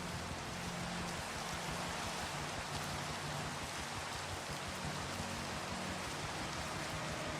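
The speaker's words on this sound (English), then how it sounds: "there goes the rain" Steady rain pours in the Minecraft video game, a dense continuous hiss of drops spread evenly across the whole stretch with no voices over it.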